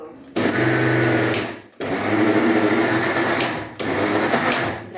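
A mixer grinder whirs loudly in three short bursts while coarsely crushing dry urad dal for idli batter, each pulse a harsh steady motor whine that cuts off abruptly between runs, close up and alone.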